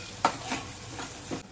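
Chilli, ginger and garlic sizzle in a pan while a spoon stirs them in a few soft scraping strokes, a short, fairly faint burst of frying.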